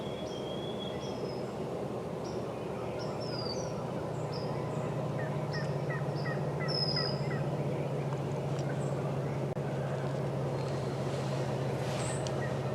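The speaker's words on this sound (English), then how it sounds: "Sounds like a real hen, though." Two wild turkey hens call in repeated short yelps and clucks over a steady rumbling engine drone, fairly distant, in Ohio.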